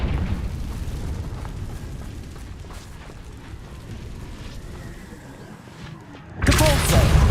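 A Confringo fire spell in Hogwarts Legacy bursts into a loud explosive boom near the end, following a steady rumbling game soundscape.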